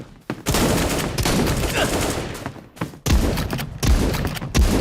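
Shotgun blasts in the Bullet Angel mobile shooter game, several loud booming shots in quick irregular bursts with brief gaps between, close and dense.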